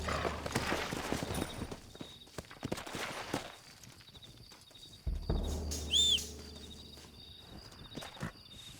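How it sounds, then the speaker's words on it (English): Rhythmic hoof clip-clops of horses trotting in the video game Red Dead Redemption, with crickets chirping in the background and a brief whinny partway through. "Looks like Carlos left us some horses."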